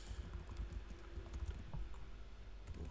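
Quiet, steady clicking of keys on a computer keyboard, somewhat distant and soft over a humming room background, with no voices.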